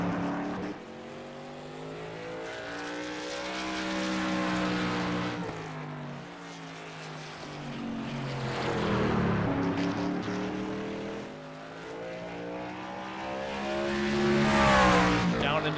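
Race car engines at Martinsville in a racing video game drone steadily, their pitch rising and falling in repeated sweeps through the laps, fairly loud and continuous.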